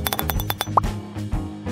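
Dark beer bottle being pried open with a metal bottle opener, a short bright clink of metal on glass standing out amid clattering tabletop handling sounds nearby.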